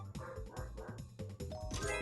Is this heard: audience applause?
no